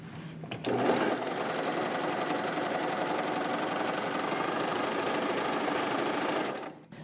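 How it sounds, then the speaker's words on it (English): A Brother coverstitch machine runs a test chain stitch in one steady, fast whirring burst that starts after a brief pause and stops cleanly near the end, close and unaccompanied by speech. "It's always a good idea to test your stitch before you start sewing on your garment or your project."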